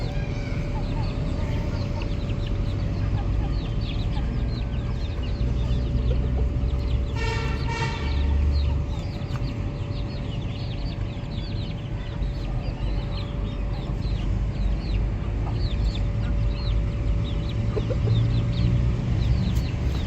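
Chickens and a rooster kept at home cluck intermittently over a constant low hum and background noise, with a brief cluster of sharper calls partway through.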